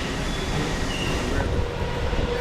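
A New York City subway number 1 uptown train arriving: a steady, loud rumble of rolling cars with faint high wheel squeals drifting over it, continuous throughout.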